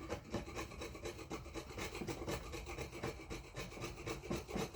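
Steady close scraping and rasping as a chisel pares a wooden surface flat, taking off small shavings in continuous short strokes, fairly quiet and without speech.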